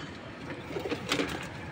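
Pigeons from an old flock cooing softly in a few low, murmuring calls over a quiet background hum.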